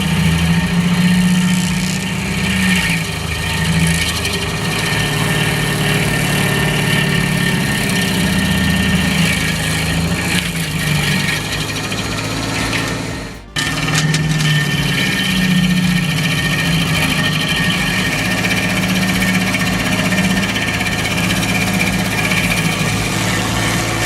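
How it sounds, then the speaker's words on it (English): A Dipperfox SC850 high-torque hydraulic stump grinder runs on a hardwood stump, its engine droning steadily and loudly throughout with a brief dropout partway. "this grinder doesn't just remove stumps, it obliterates them into dust within seconds"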